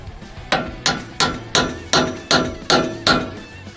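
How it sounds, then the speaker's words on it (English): A hammer seats butterfly fittings on hydraulic hoses, striking eight sharp metallic blows in an even rhythm, close and loud, with no talk. "be sure to use a hammer to seat the butterfly fittings."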